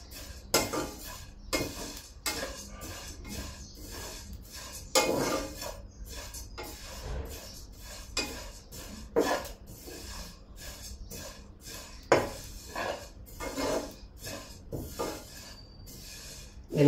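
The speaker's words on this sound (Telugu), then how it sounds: "పచ్చి వాసన పోయేదాకా సేమియా వేగనివ్వాలి." Vermicelli (semiya) roasting in a pan as a spoon stirs it, giving irregular scraping knocks and clinks of metal against cookware, quiet and close, with no talk.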